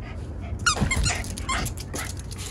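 A dog chews a squeaky toy up close, producing several sharp squeaks with soft growly snuffling and whimpering noises between them.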